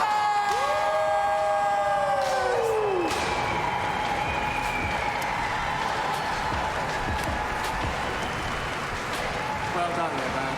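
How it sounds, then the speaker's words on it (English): A crowd at an outdoor park riding event cheers and applauds a rider's run, with steady broadband clapping and shouting throughout and a rising horn-like tone near the start. "Please make some noise for the one and only"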